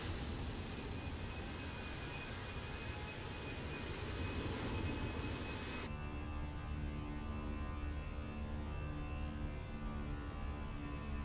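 Fenix A320 jet engines spooling and roaring during climb in Microsoft Flight Simulator 2024, a loud steady engine drone with a high whine that drops and changes tone partway through, no voices.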